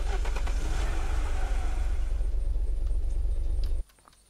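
Fire truck engine idling and rumbling in the zombie survival game Unturned, a steady loud low drone with some revving that cuts off abruptly near the end.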